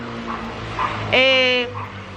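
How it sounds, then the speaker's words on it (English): A dog gives a short whining bark or yelp, fairly close, following a brief stretch of voice and room background. "This dog down there."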